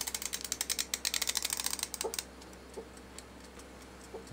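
Clock timer being wound and set to forty minutes, a rapid run of close ratcheting clicks for about two seconds, then a few sparse soft ticks.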